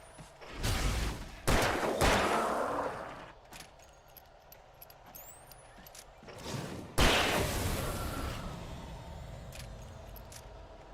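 Gunfire in the Alan Wake Remastered game: several loud, separate shots, each with a sharp crack and a decaying echo, spread across the stretch, plus mechanical clicks between them.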